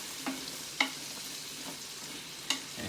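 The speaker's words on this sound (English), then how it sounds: "I'm just gonna put a little carrots in here and get that sauteed off right quick" Carrots sautéing in butter inside a Power XL cooker, a soft low sizzle broken by a few sharp clinks of a utensil stirring, close and fairly quiet, with no talking.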